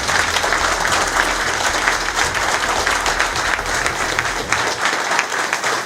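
An audience at a ceremony honouring Artsakh war heroes breaks into applause, a dense, loud and continuous wall of clapping that holds steady throughout.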